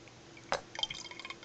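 Blended wheatgrass juice strains through a strainer into a glass, with faint, close drips and a small splash followed by a quick run of light trickles.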